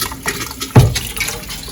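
Water pours briefly into a pot of beef for soup, a short splashing gush near the middle against a quiet kitchen background.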